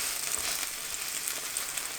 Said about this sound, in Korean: 뒤집어서 뒷면도 꾹꾹 누르면서 붙입니다